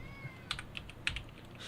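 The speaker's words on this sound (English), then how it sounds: "Defo heard that kitty." Pet cat giving two short, faint meows about half a second apart, close by in a quiet indoor room, with light keyboard-like clicks around them.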